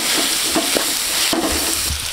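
Tomatoes going into a pan of frying onions and vegetables, giving a steady loud sizzle with a few stirring scrapes, close up and with no talking.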